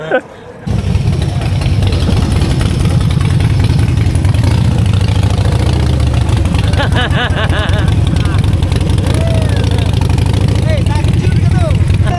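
A Harley-Davidson motorcycle engine starts with a short burst and then settles into a loud, steady, close-up idle with a deep throbbing rumble, while people talk over it.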